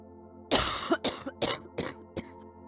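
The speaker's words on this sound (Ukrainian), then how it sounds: "Коли людина захворіла на туберкульоз, в неї сильний кашель." Heavy coughing, one strong hacking burst followed by several shorter coughs in a ragged rhythm, close and loud with no speech.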